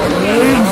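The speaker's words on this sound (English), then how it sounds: "Tractor trailer with a McLaren drifting underneath it." A McLaren drifting beneath a tractor trailer at an LS Fest West motorsport event, its tires squealing in a sustained high pitched whine over a loud engine roar and crowd noise.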